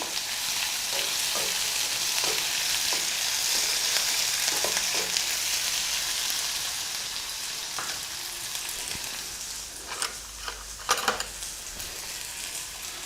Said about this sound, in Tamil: வெங்காயம் வதங்கும்போது கொஞ்சமாக உப்பு போட்டுக்கோங்க.